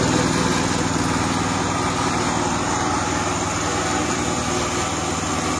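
A belt-driven air compressor runs loud and close, a dense mechanical chugging drone with rapid regular pulsing that holds steady throughout with no talk over it.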